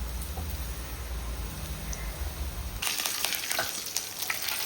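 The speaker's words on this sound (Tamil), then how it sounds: "எண்ணெய் காஞ்சிட்டு வடவத்தை போட்டு தாளித்து கொட்டி போயிடுது" Vadavam dropped into hot oil as tempering for dried fish curry, a quiet low rumble giving way to a sudden bright crackling sizzle with popping bursts.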